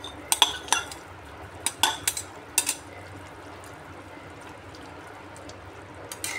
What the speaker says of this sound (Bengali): এবার ভেজে রাখা মৌরলা মাছ দিয়ে দিচ্ছি।